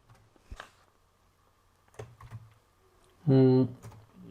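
C code is typed on a computer keyboard: a few scattered, close keystroke clicks with pauses between them, followed by a brief loud voiced tone near the end.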